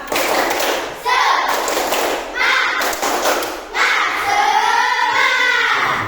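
A classroom of children chanting together and doing the 'tepuk semangat' spirit clapping routine, their group voices mixed with rhythmic bursts of claps and thumps in repeated loud phrases.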